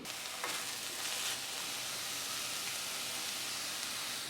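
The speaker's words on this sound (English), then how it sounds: "saute the onions first." Onions sauté in olive oil in a single pot, giving a steady, close, even hiss of frying with a couple of brief stirring swells near the start.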